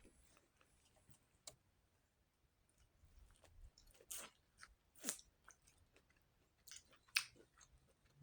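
Someone eating corn on the cob and pizza for dinner, chewing and biting in quiet, irregular crunchy bursts that grow more frequent toward the end, close to the microphone in a hushed room.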